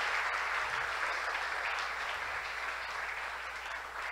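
A church congregation applauds steadily during a Christian worship service, a dense wash of clapping from many hands that holds for several seconds and fades slightly toward the end.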